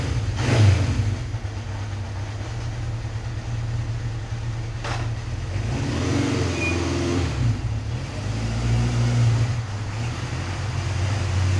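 A bike's motor runs steadily through a smooth ride, a continuous low drone with wind rush layered over it that swells slightly mid-ride, with no voices.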